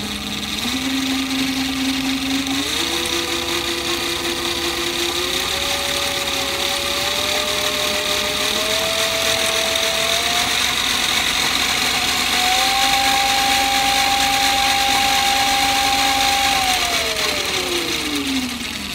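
Voloci electric bike motor on a Kelly KBS controller, run up to top speed on small wiring, whines in a steady rising electric tone that climbs in steps, holds high, then winds down near the end, loud and alone.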